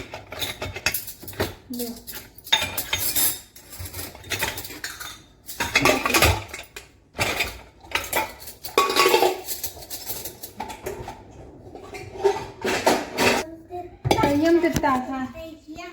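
Spoons and other cutlery clatter and clink as they are dropped into a holder among dishes, in repeated loud bursts, with people talking intermittently over the noise.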